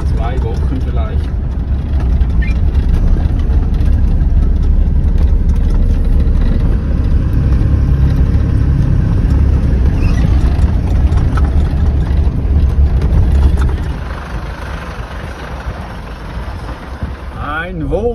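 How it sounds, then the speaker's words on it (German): Camper van engine droning steadily on a gravel desert track in Saudi Arabia, a loud continuous low rumble with road noise that eases slightly near the end. "Wir fahren da über 20 Kilometer Piste zum Edge of the World"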